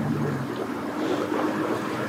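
A bass boat motor drones over rushing water and wind noise at a boat ramp, a steady churning wash that stays fairly loud throughout.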